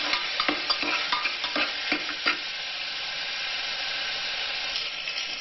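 Ingredients sautéing in a hot pan, an even sizzle with a few sharp stirring scrapes and clanks early on, then a settled continuous frying hiss with no voices.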